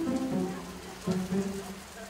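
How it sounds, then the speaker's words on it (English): Heavy rain pours down outdoors during a garden build with a door and herb box, a steady hiss of drops with a couple of louder gusts of downpour, no voices. "bucket loads of that wet stuff coming out of the sky"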